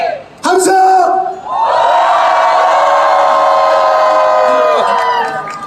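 A crowd at an outdoor climate justice march raises a loud, sustained collective shout and cheer, swelling after a brief dip and holding steady for several seconds before fading slightly.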